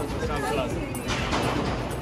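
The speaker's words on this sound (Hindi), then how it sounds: "अभी शुरुआत हो रही है बस पटाखे जलाने की।" Diwali firecrackers go off outdoors, a few sharp bursts and crackles that stand out over a busy noisy background with voices talking.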